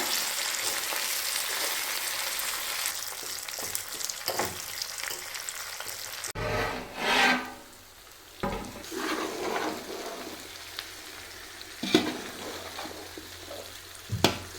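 Pieces of kera fish frying in oil for a Kerala-style homemade fish pickle, a steady close sizzle broken by scraping stirs and a louder bubbling surge midway, with no talk.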